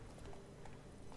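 Roach, the horse in The Witcher 3, trots along with a steady, faint clip-clop of hooves repeating in an even rhythm.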